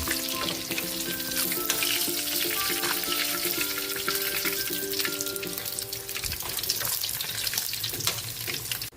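Fish frying in oil in a pan gives a loud, continuous crackling sizzle, close up, with faint tonal kitchen sounds in the background and the hiss easing slightly near the end.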